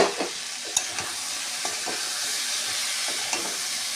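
Potato, chickpea, pumpkin and papaya frying in a pan, a steady sizzle broken by a few sharp clinks and scrapes of a spatula stirring, close and without talk.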